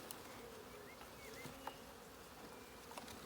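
A honeybee swarm being put into a nucleus hive makes a soft, continuous buzz of many insects, with individual bees droning past close by now and then.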